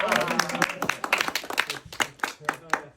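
Small tour group at the Mystery Spot in Santa Cruz clapping briefly, a scattered round of hand claps heard under a man's ongoing speech and laughter.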